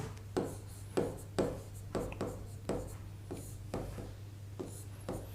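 A pen or chalk writes out a definition in a lesson, giving a series of short scratchy strokes in an irregular rhythm over a low steady hum, with no talking.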